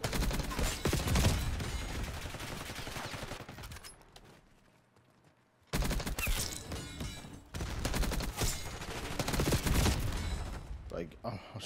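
Call of Duty Black Ops 6 multiplayer gunfire: dense automatic bursts ring out loud and close, cut by a short near-silent gap before the rapid shooting resumes.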